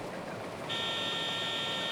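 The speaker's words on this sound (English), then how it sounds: "what's that alarm going on? What buzzer's going off?" An alarm buzzer goes off in a farming video game while a combine harvester runs, a steady high continuous tone starting partway through over the constant low machinery rumble.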